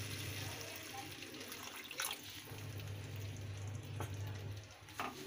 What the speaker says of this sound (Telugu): ఇప్పుడు ఇందులో కొంచెం వాటర్ పోసుకున్నాము.